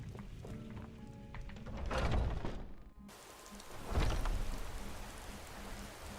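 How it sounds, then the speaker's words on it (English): Steady rain falls in the video game Skyrim, a continuous wash of hiss with a couple of heavier thumps and swells partway through, heard alone without talk. "And it's still raining."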